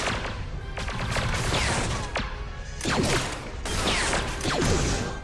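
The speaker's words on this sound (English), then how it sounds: "I think this gun shoots a little high" Gunfire from a blaster-style gun in Starfield with the Star Wars Genesis mod, a steady stream of sharp shots mixed with mechanical clatter and a few heavier bursts, fairly close and continuous through a busy game firefight.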